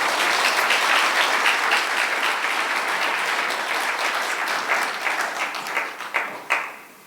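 Audience applause at the close of a university symposium lecture on the history of the universe, dense steady clapping from a full room that gradually thins and breaks into scattered last claps before fading out.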